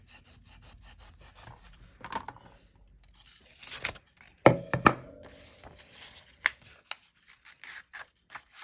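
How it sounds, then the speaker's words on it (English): A vintage book page is folded and creased by hand, with soft papery rustles and scraping, then a few sharper crinkles and taps, close and quiet with no talk. "Fold over these sides."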